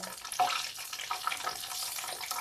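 Corn dogs, sausages wrapped in dough, sizzle while frying in a pan, giving a steady close hiss and crackle with small bursts of spatter.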